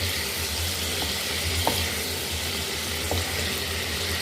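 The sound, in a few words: chicken and ginger being mixed, sizzling in the karahi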